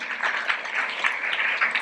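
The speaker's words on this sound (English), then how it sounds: "Round of applause for CavanaghKelly." An audience gives a round of applause for CavanaghKelly at a business event: steady, dense clapping that holds at an even level for the whole stretch, with no voice over it.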